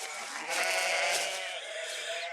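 Several sheep bleat loudly and continuously in close, overlapping cries, with a livestock flock milling about nearby and no other sounds breaking through.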